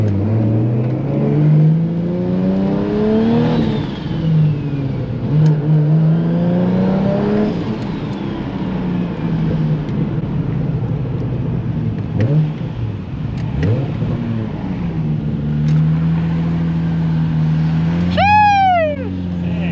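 A 2JZ engine in a Toyota Supra MK5 with a six-speed manual revs and drones steadily with rising and falling exhaust tones, close and continuous, with a brief high squeal near the end.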